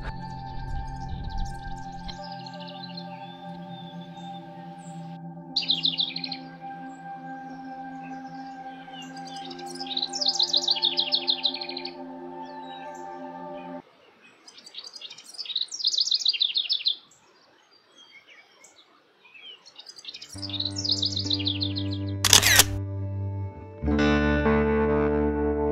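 Eastern towhee calls on a forest hike: sharp, bright chirps and short trills repeat in bursts across the stretch, set against sustained electronic music tones with no talking.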